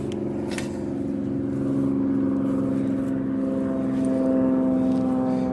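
A steady drone of an aircraft flying near an airport holds throughout, loud and continuous with a low engine hum, heard from an outdoor field with no talking.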